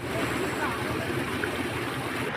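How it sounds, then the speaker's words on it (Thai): Floodwater rushes across a flooded road out of town in Thailand after heavy rain, a steady, loud, continuous wash of churning water that fills the whole stretch without letting up. "มาเบิ่งน้ำไหลน้ำท่วม"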